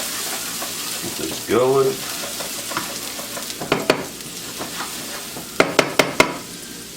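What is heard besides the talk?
diced onion and garlic frying in a pan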